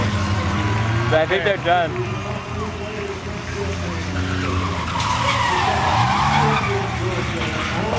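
A Chevrolet Corsica driving and skidding across the field in auto soccer at Toyota Speedway, engine roar and tyre scrubbing loud and continuous with people talking over it throughout.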